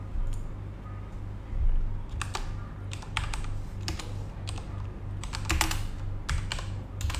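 Someone types on a computer keyboard in irregular clusters of clicking keystrokes, moderately close, over a steady low background hum.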